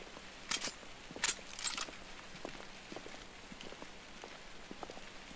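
Rain falling in misty weather in The Order 1886 video game, a soft steady patter with a few sharper, louder footstep-like hits early on and no talking.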